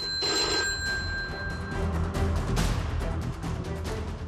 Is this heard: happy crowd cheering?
no